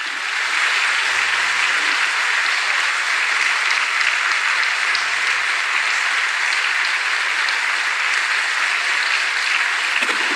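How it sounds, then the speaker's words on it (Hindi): An audience at a religious gathering claps loudly to welcome Jagatguru Shri Kumar Swami Ji, a dense, steady burst of applause that holds at full strength throughout without any voices. "जगत गुरु श्री कुमार स्वामी जी का एक बार आप खूब जोर से ताली बजा करके स्वागत करो।"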